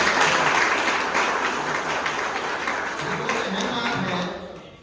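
An audience bursts into vigorous applause at a bike service centre's anniversary celebration, dense clapping that gradually thins and fades toward the end, with some voices mixed in.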